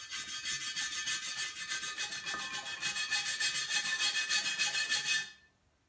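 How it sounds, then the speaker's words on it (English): A scraper works old paint softened by paint stripper off a drill press head, a steady rhythmic rasping in quick repeated strokes, close and continuous for about five seconds before stopping. "Let this paint stripper seep into this paint here. I'm gonna see if I can scrape it off"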